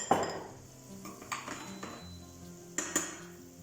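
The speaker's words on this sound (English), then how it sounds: "I'm going to put some onion in it, not too much, just a tablespoon of onion" Onion for risotto goes into a hot pan, bringing a clatter of metal utensils and pan knocks with a light sizzle, several sharp clinks spaced across the moment.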